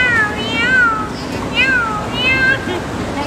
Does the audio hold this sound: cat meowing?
yes